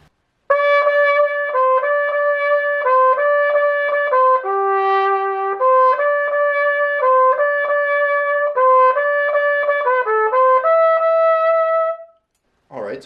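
A solo trumpet plays a song's melody line, moving through a loud, close, continuous phrase of sustained notes and quicker runs before stopping abruptly.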